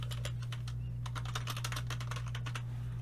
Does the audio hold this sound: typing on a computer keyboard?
yes